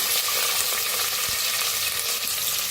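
Mustard seeds, cumin and chopped onion fry in hot oil with a dense, loud, close crackling sizzle and a single brief scrape partway through.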